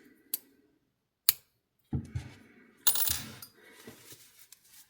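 Scissors snipping crochet yarn while finishing a Christmas-decoration crochet cardigan: a few sharp, isolated clicks and snips, close and clear, separated by quiet gaps, with some soft handling rustle toward the end.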